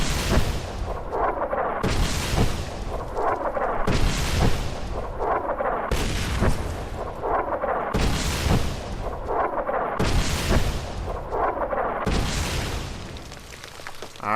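An artillery barrage in Fallout New Vegas pounds away in loud, heavy booms roughly every two seconds, each blast rolling into the next so the rumble never fully dies.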